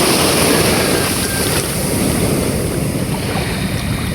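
A small fishing boat heads home across the open sea after a squid-fishing trip, its motor drone blending with heavy wind buffeting and the wash of waves, loud and constant throughout.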